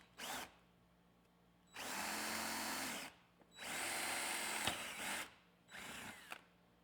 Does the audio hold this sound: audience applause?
no